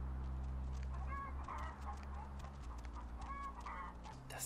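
Game chicken in Vampire: The Masquerade Bloodlines clucks in two short bursts over a loud low droning background, with no talk.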